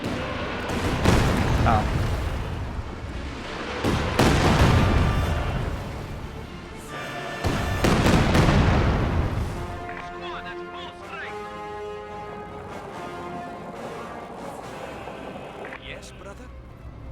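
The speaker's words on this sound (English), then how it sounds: "Where's that Katyusha firing?" Katyusha rocket artillery firing in a WWII strategy game, three heavy booming salvos at roughly four-second intervals, then a quieter stretch with someone talking over the fading rumble.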